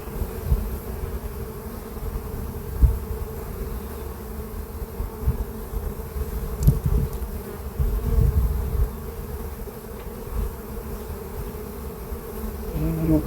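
Honeybees drone steadily in an open hive during an inspection of a failing colony with no queen or eggs, a dense continuous buzz close by with occasional louder swells of wings.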